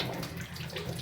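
Tap water runs steadily over two eggs being washed at a sink, a soft, close splashing flow with no voices.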